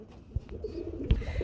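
A pair of Blackless Shirazi pigeons, a male and a female, coo softly in a few low, throaty bursts close by, with no voices over them.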